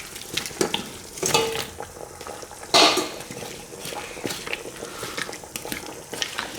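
Cut potatoes tumble into a pot of Cantonese lamb stew sauce sweetened with brown sugar, giving a few soft wet thuds and a louder splashing clatter near the middle, then light stirring scrapes and a faint simmer.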